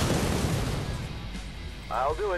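A dense, continuous roar of rumbling explosions in the video game Cannon Fodder 3 fills the clip, with a brief warbling tone rising over it near the end.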